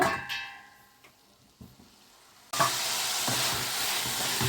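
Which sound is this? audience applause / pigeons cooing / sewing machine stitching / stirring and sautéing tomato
stirring and sautéing tomato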